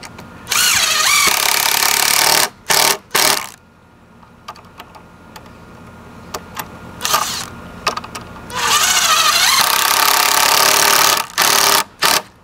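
A Makita power tool used while building a safety rail for a deck runs in loud, close bursts of high buzzing whir, stopping and restarting several times with quiet gaps between.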